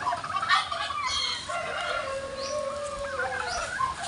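A rooster crows at moderate distance in a rural Batangas yard, one drawn-out call amid steady clucking and fowl chatter in the background.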